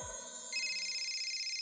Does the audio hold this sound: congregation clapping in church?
no